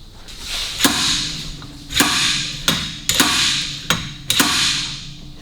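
A hammer strikes metal five times at uneven intervals, each blow sharp and close with a brief metallic ring trailing after, driving a half shaft through a rear wheel bearing on a 1972 Alfa Romeo GT Veloce.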